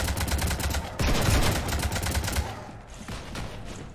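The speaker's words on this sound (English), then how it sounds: "You want to stop shooting up my ship?" Sustained volleys of automatic gunfire shooting up a ship in the video game Mass Effect 3, loud and dense throughout with rapid overlapping shots and no talk.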